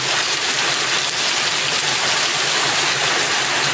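Heavy rain pours down steadily, a loud dense hiss of drops with no breaks throughout.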